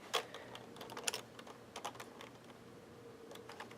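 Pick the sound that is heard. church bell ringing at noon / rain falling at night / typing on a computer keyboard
typing on a computer keyboard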